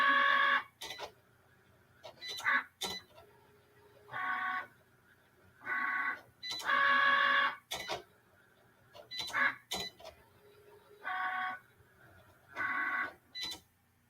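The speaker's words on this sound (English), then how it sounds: "So I'm gonna click my flashing C. You know, so Cricut thinks it's really scoring." A Cricut cutting machine running a scoring pass gives off a rhythmic run of whirring carriage bursts, starting and stopping at regular intervals with sharp mechanical clicks between them, close and alone.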